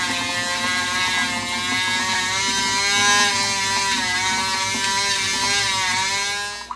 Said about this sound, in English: it'll clean up quick with a brush. Just using a Dremel with a wire brush attachment